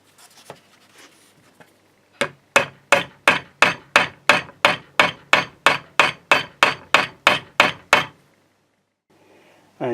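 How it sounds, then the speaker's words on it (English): About seventeen sharp, evenly spaced hammer taps drive metal frets into glued slots on a banjo neck, close and loud with a steady rhythm, followed by silence and one last knock. "we're just going to put a drop of glue into each of the slots and then just hammer the fret in"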